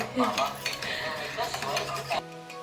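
Dishes and cutlery clinking and scraping during a home lunch of dal, rice and yogurt, close and busy metallic taps and stirring with no talk.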